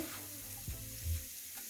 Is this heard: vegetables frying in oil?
yes